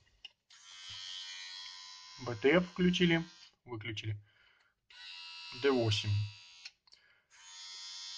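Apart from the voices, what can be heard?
Andis Slimline cordless rotary hair clipper running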